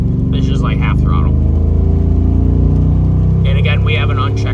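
A pickup truck's LS engine with an unchecked vacuum leak hums steadily at half throttle on a slick road, with someone talking over it in two bursts.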